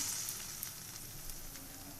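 Pumpkin seed fritters fry in hot oil with a faint, steady hiss and light crackle, low in level and unbroken, with no voices.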